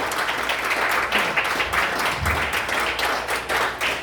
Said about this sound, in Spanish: Démosle palmas al Señor porque el Señor es lindo.